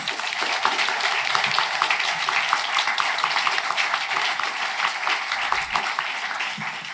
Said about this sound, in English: Please give them all a warm round of applause.